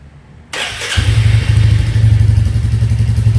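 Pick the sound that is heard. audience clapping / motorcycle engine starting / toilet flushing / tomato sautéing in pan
motorcycle engine starting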